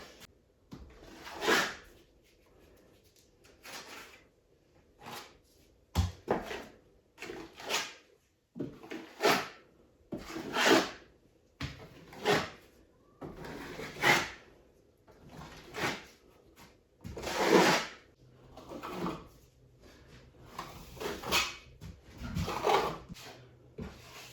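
A brush is dragged in repeated strokes across decorative plaster on a metal surface, each scraping swipe rising and fading in a steady rhythm of about a dozen passes, close and fairly quiet.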